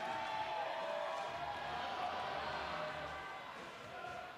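Roller derby crowd at a bout rousing into cheers and whoops, a broad wash of many voices filling the arena, fairly steady and then easing slightly toward the end, with an announcer's voice mixed in.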